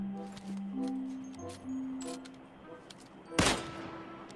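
Gunfire in a mobile battle-royale shooter game: a single sharp, loud shot stands out near the end over a backdrop of faint game tones and clicks, with no one talking.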